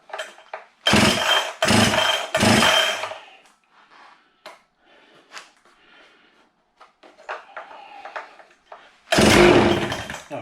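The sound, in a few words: Husqvarna chainsaw being pull-started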